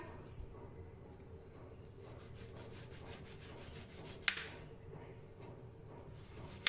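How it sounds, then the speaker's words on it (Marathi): A knife works through a ripe, soft, medium-sized guava, giving faint, repeated rubbing and rasping strokes close by, with two small sharp taps. "सर्वप्रथम आपण पेरू कापून घेऊया"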